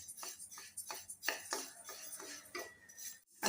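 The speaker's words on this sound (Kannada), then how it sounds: "ಅಕ್ಕಿ ಚೆನ್ನಾಗಿ ಬ್ರೌನ್ ಕಲರ್ ಆಗುವ ತನಕ ಹುರಿದುಕೊಳ್ಬೇಕು" Rice dry-roasting in a hot pan as a utensil scrapes and stirs it, producing a run of close, light metallic clinks and scrapes in an uneven rhythm, with no talking.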